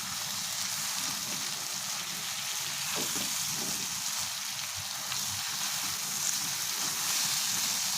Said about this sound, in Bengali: আমি অল্প অল্প করে ধুন্দুল দিয়ে অল্প অল্প করে মিশিয়ে সবগুলো ধুন্দুল দিয়ে মিশিয়ে নিচ্ছি।